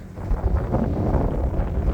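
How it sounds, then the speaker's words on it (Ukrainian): Strong wind gusts across a frozen lake during winter ice fishing, a steady loud roar buffeting the microphone with no voices. "Але погода сьогодні жестяк повний. Вітер страшний."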